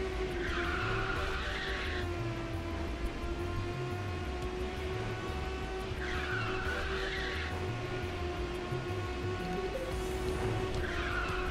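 Race car tires squeal in long repeated skids during a Ridge Racer 6 video game race, under a constant high engine whine and rumbling game music, with no talking.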